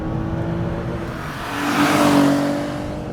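A BMW M635 CSi with one throttle per cylinder revs up sharply, its engine note climbing to a loud raspy peak and then falling back, heard close with no talking.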